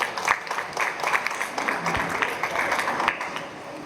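An audience applauds to greet author Ahmet Ümit at a mall meet-and-greet event. Moderate, continuous clapping from a medium-sized crowd runs throughout, with no talk over it.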